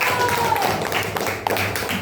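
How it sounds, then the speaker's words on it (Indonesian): Elementary classmates clap for a student during a science lesson, a brief, moderately loud patter of hands in a small room, with some background voices mixed in. "Tepuk tangan untuk Alfiatul"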